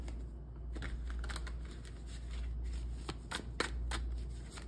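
Tarot cards shuffle close by in a quiet room, a run of crisp riffling snaps and soft slides with brief pauses and no voice over them.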